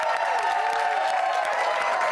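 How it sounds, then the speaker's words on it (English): A studio audience on a TV panel show applauds, dense steady clapping and some cheering that holds loud and unbroken throughout. "give him a round of applause."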